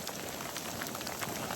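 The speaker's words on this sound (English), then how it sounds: "I didn't have to come out in the rain" Steady rain falls outdoors during a walk, a dense, even hiss of drops pattering on surfaces close by with no voices.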